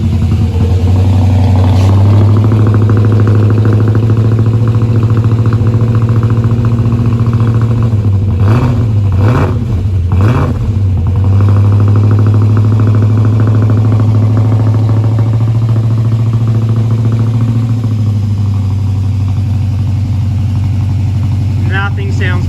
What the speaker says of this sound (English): Nothing sounds better than an injected 304.